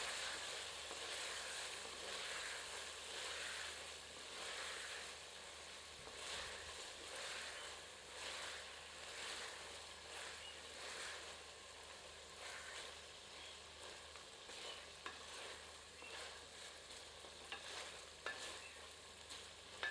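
Spoon stirring chicken pulao in a pot over heat, soft scraping and sizzling at low level with a steady rhythm of stirring strokes, no talk.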